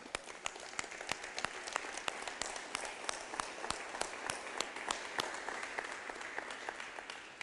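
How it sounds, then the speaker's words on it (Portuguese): Congregation applauding together during a Sunday church service, a dense steady wash of many hands clapping with sharper individual claps standing out, sustained and fairly even throughout. "Vamos dar uma salva de palmas para Jesus?"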